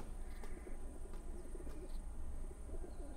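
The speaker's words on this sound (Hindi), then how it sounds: "ये पैगाम रसाने वाले कबूतर हैं।" Messenger pigeons coo softly in a few quiet, rounded calls over a faint background hum, with occasional light chirps and no talking.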